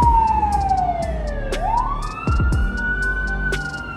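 An American fire engine siren wails, falls, then rises again over rumbling downtown Los Angeles traffic, with short horn blasts cutting in; loud and nearby on a street.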